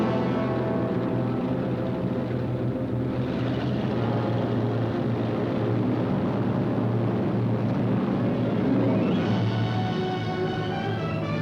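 Bomber aircraft engines roar in flight, a dense, continuous propeller drone that stays loud and steady throughout with a slight swell near the end, no voices.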